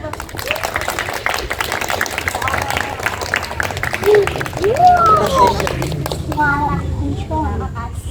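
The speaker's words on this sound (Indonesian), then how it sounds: "Boleh kasih tepuk tangan dulu" An audience at a social psychology lecture claps in a steady, scattered patter under constant hall chatter, as voices and a few raised calls rise over it.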